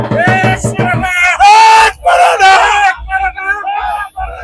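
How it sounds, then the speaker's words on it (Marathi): Crowd at a Maratha reservation rally chanting and yelling: loud, close rhythmic shouted slogans from many voices, rising into long sustained cries, then broken bursts of chanting. "आपण जल्लोष बघू शकतो मराठा आरक्षणामध्ये"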